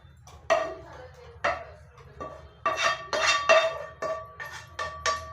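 Ingredients go into a mixer jar for drumstick-leaf sambar: a series of sharp clinks and taps of a spoon against the jar, about eight distinct knocks spaced irregularly over a quiet kitchen background.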